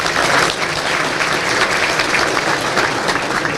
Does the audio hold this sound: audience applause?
yes